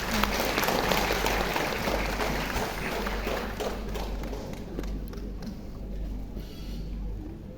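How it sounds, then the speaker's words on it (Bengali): An audience at a film screening breaks into loud, sustained applause. The clapping is thick at first and tapers slightly as it goes on. "জোরে একটা হাততালি।"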